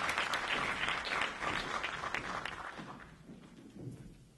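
An audience in Durban gives a round of applause as writers come to the stage at a literary festival event. The loud, dense clapping fades gradually over about four seconds to scattered claps.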